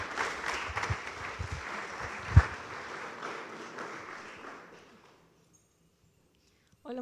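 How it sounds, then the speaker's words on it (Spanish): An audience at an anniversary celebration applauds a speaker with steady, full clapping that gradually fades out to silence, with a voice beginning right at the end. "Le damos un fuerte aplauso"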